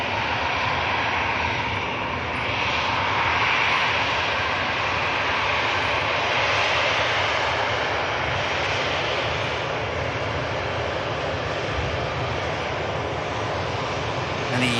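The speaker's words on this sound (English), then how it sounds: "You have a Ryanair from Oslo on finals." A Ryanair airliner from Oslo on final approach at Manchester Airport gives a steady distant engine roar that holds throughout, broad and continuous, with faint talk at times.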